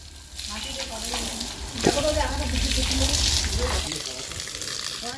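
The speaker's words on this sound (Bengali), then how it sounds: "এখন এই যে লম্বা পাইপটা সেট করে ঘরের ওয়ালগুলোতে জল দেবো আমরা" Water gushes steadily from a long pipe fed by a motor pump, a broad continuous rushing that swells and holds for several seconds, with voices talking faintly underneath.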